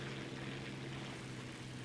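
A steady, droning propeller engine on a Re.2000GA fighter plane in the War Thunder combat flight game hums continuously at an even level, with no talk over it.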